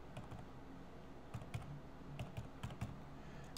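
Someone types on a computer keyboard while entering contact details into a letterhead layout, with quiet, uneven bursts of key clicks and a few louder keystrokes.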